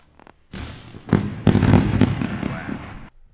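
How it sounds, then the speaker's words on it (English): Fireworks sound effect marking a celebration: a dense run of loud crackling bursts and booms lasting about two and a half seconds, with no speech over it. "Fireworks at once."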